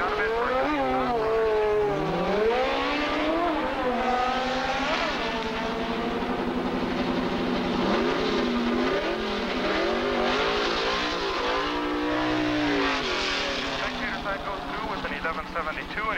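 A 1966 Chevelle drag racing at Edinburg International Dragway, engine roaring and revving through rising and falling pitch sweeps, loud and close, with an announcer talking over it.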